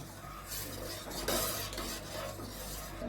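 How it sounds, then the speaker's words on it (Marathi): Milk being stirred into cooked rice in a pot for rice kheer, a soft continuous rubbing and scraping of a spoon against the pot, with one brief louder swirl partway through, no voices. "त्यामध्ये आपण दूध ओतूया आणि मिक्स करून घेऊ"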